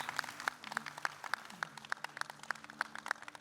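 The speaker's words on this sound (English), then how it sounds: "ladies and gentlemen, hand of applause for these gorgeous ladies" Applause from a fashion show audience at an evening fashion weekend event, steady scattered clapping with sharp distinct claps spread across the room, moderately faint and continuous throughout.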